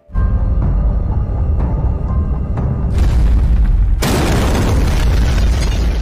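A bomb blast in a film lands as a sudden loud, broad boom that swells into a sustained roaring rumble. It follows a few seconds of low droning tension and carries on without any voice.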